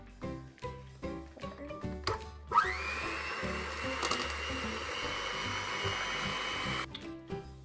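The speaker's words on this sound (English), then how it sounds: "I have an electric whisk" An electric hand whisk beats orange cupcake batter in a bowl. Its steady, loud whirring motor runs for about four seconds, with clattering and handling before and after.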